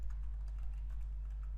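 Computer keyboard typing while a country name is entered into a Bootstrap web form, soft and steady key clicks over a constant low hum, with no talk.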